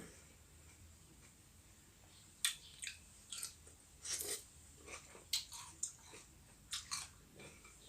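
Close, wet chewing and crunching on a mouthful of spicy Thai bamboo shoot curry, irregular soft bites and squishy mastication sounds with faint breathing, fairly quiet and no speech.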